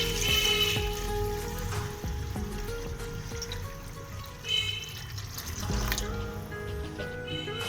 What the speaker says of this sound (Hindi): और ये देखिए अब इसमें पानी जाएगा